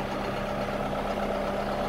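A tractor pulling a bush hog while mowing a strip for a 1,000-yard shooting range on a Southern Illinois farm, giving a steady, loud mechanical drone with a constant engine hum throughout.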